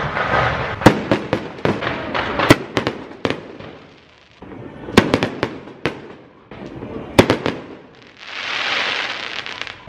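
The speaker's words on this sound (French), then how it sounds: "Pour mon dernier jour au Guatemala, ils ont fait un feu d'artifice" Fireworks bursting on a Saturday in Guatemala: clusters of sharp cracks and booms in several volleys, with a hissing rush between them and voices in the background.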